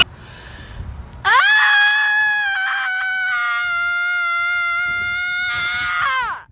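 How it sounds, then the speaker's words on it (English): A single loud, sustained high-pitched scream starts abruptly, holds a steady wailing pitch for about five seconds, then trails off, heard alone. "That must be the weakest scream I've ever heard."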